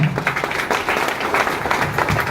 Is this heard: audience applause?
yes